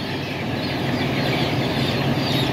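A dense crowd of chickens clucks and squawks nonstop while workers catch the birds for vaccination on a poultry farm, a loud, continuous flock din with a faint engine hum underneath.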